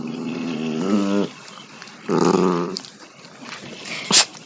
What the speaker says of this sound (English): My dog is chiming in a bit.